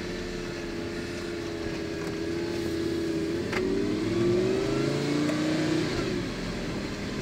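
A Lamborghini Gallardo's 500 hp V10 pulls from inside the cabin, a steady droning engine note whose pitch rises and shifts through the run, fairly loud and continuous with no talk.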